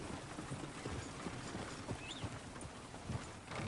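Horse hooves clip-clop in a quick, light rhythm in Red Dead Redemption 2, fairly faint against a hissy background of ambient noise, with no talk.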